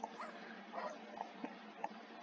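A dog in The Sims 4 video game gives short yips and whimpering barks at a moderate distance over a steady game background hum, with a few separate brief cries.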